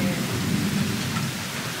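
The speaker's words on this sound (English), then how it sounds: "Quite the feisty storm." A thunderstorm with steady rain and a deep rumble of thunder, heard outdoors during a storm with tiny hail, a continuous dense wash of rainfall over low rolling thunder, with no talking.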